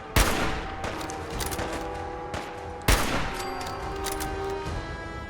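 Gunfire from enemies in Fallout 4, with two sharp close shots standing out over a steady rattle of ongoing shooting and game ambience, no voices.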